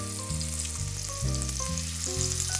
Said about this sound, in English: we're gonna sear them off on each side